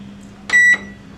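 A microwave oven gives a single loud, steady electronic beep lasting about a quarter second while being set to grill mode for cooking fish, over a quiet room hum.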